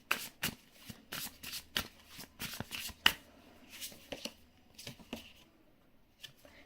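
Tarot cards being shuffled by hand in a series of crisp riffling bursts and soft slaps, close and fairly quiet, with short pauses between bursts and no speech.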